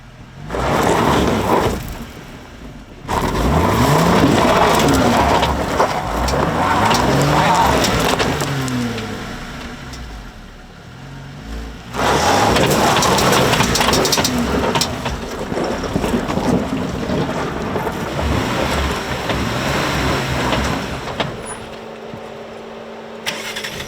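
A bone-stock two-door Jeep Wrangler JL Sport revs as it climbs onto a rock on an off-road trail, its engine surging in long loud bursts with rising and falling pitch, then easing off between pushes.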